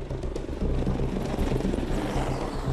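An Apache attack helicopter drones steadily nearby, its rotor thumping in a continuous low throb with engine roar, and no talking.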